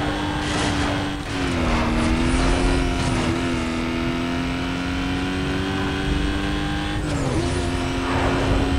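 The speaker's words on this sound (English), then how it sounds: "Suspect driving a silver Aston Martin." A silver Aston Martin DB9 racing in Need for Speed: Most Wanted gives a loud, sustained engine drone. Its pitch dips briefly at two gear changes and then holds steady, with no voices.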